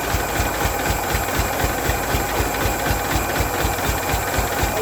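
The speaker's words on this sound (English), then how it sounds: "Just leave it sit there chugging a while, it'll get some heat in the engine and come out of it" A Ford Flareside pickup's fuel-injected engine sits idling and chugging in an even, rapid pulse, steady and close throughout, with no one talking.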